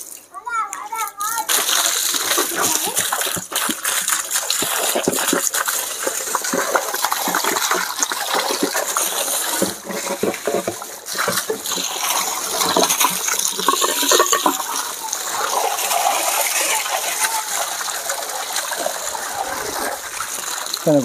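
Fresh water is poured into a large infected aquarium tank to rinse it, giving a steady, loud splashing and gushing that runs throughout, with a voice briefly at the start.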